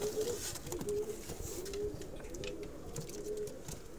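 Several caged Sialkoti quail, males and females, give soft repeated calls over steady background noise, fairly faint.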